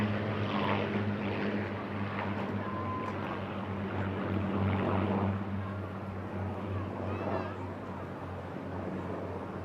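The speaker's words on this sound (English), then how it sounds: "Please welcome the Rolls-Royce Spitfire Mark 19 and the P-51 Mustang" A Rolls-Royce Spitfire Mark 19 and a P-51 Mustang, vintage propeller fighters at the Eastbourne International Airshow, drone steadily with a low engine hum at moderate distance, while an announcer talks over the sound.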